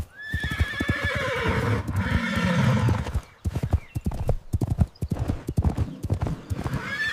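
Horse hooves clip-clop in a steady, close rhythm, with a loud horse neigh and whinny rising over them in the first few seconds before the hoofbeats continue alone.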